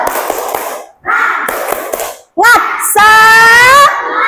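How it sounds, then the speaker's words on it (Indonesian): A primary school class doing the rhythmic 'tepuk semangat' clapping chant, sharp patterned hand claps in quick bursts alternating with children's shouted chanting, loud and close. "kita tepuk dulu. Tepuk semangat."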